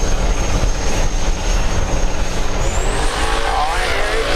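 A 5.3 liter drag racing car engine turning about 8,200 RPM at a drag strip, a loud sustained high-pitched roar with a tone that climbs near the end, with an announcer talking over it.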